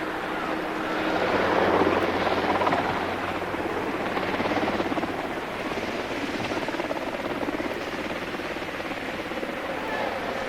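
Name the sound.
military helicopters flying between ships of the Falklands task force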